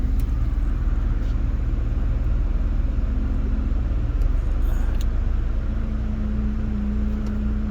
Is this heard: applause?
no